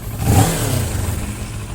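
A 2015 Kawasaki ER-6n Limited motorcycle is heard close to the exhaust, a loud rev that peaks early and then settles into a steady, throbbing idle-like rumble.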